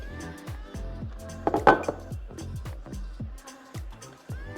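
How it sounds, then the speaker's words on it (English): A knife cutting buttered slices of bread in half for bread and butter pudding, a series of sharp knocks against a board or dish at an uneven rhythm, close up and fairly clear. "I cut the bread in half"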